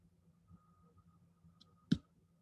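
A single sharp mouse click on a save button, loud and isolated against quiet room tone, with a faint softer tick just before it.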